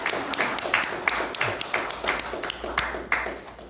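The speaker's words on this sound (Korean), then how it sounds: "우리 한번 반석 찬양단과 연주단을 위해서 여러분 한번 박수 한번 드리겠습니다" Church congregation claps for the praise team and musicians, a fairly sparse, uneven patter of individual hand claps with distinct sharp hits, moderately quiet and close.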